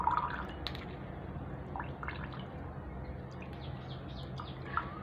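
Bitter gourd juice drips through a strainer as the pulp is squeezed by hand in a village kitchen, faint irregular drips over low background hum with occasional birds chirping in the distance.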